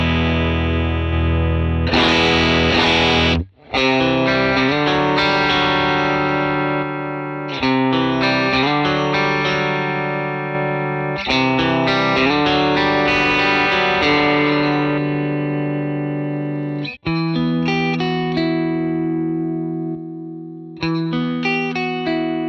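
Electric guitar played through a Fractal Axe-FX III preset with its compressor switched off, a distorted, chorused tone with reverb, strummed chords and picked phrases ringing out over about twenty seconds, with brief pauses between passages.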